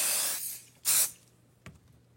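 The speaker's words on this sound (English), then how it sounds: "I will take my basting adhesive and I will just spray a light coat on that." Basting adhesive sprayed from an aerosol can onto quilt backing fabric in short hissing bursts, one longer spray, then a brief spurt, all fairly soft and close with no talk.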